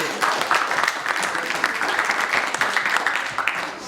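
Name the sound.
audience applause for the organizing committee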